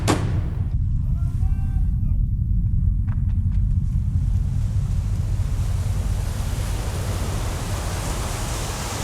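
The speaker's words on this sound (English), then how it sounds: "The sea." Sea waves surge and wash steadily, a loud, continuous roar of surf and wind that swells and fills the scene from start to finish, with no voices over it.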